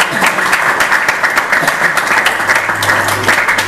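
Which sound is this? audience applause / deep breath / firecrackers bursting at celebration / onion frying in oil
audience applause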